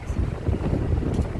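Steady low wind roar buffeting the microphone outdoors in cold, snowy weather, a constant rumbling gust with no voices.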